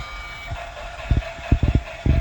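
A TEMI electric toy train set runs with a steady whirring hum and a high whine, punctuated by several quick clicking clacks of wheels over track joints, close by.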